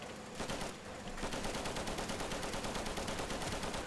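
Rapid automatic gunfire in a first-person shooter game, a steady stream of quick bursts that starts after a brief pause and keeps rattling at moderate loudness without talk.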